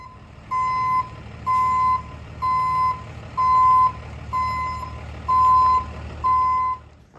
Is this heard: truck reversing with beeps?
yes